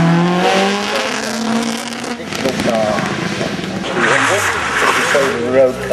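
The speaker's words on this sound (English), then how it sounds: "They're getting onto the grass now. That's what Escorts are good at." Ford Escort rally car racing off the road onto grass, its engine note rising and falling continuously close by, with someone talking over it throughout.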